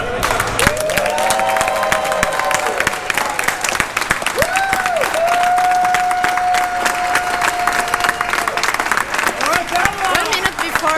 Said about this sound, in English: One minute before the rings bell, they start clapping.